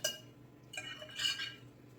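A spoon stirs meatloaf mixture in a bowl, with light clinks and scraping against the dish in a couple of bursts, soft and close with no talking.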